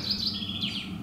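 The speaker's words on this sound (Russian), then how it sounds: "Птицы поют." Small forest birds chirp and tweet in quick repeated phrases close by, bright and clear over a faint outdoor hum, with no talking.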